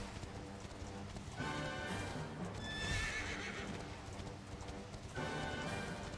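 A horse in the video game Dragon Quest XI whinnies loudly twice and gallops with steady, rapid clip-clop hoofbeats running under the calls throughout.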